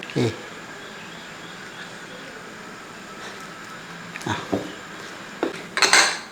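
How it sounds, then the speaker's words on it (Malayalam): A ladle mashing cooked tapioca in a pot gives sparse metallic clinks and knocks, growing busier toward the end over a steady background hum. "ചട്ടവും കൊണ്ട് തന്നെ ഒന്ന് ഉടച്ചെടുക്കും"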